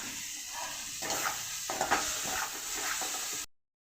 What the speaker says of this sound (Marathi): आता उडदाची डाळ टाकूयात आपण, भिजवलेली उडदाची डाळ